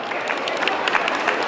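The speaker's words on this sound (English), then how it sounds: "Round of applause for them." Audience clapping at an outdoor Filipino festival, a dense steady patter of many hands over a continuous crowd murmur, moderately loud throughout.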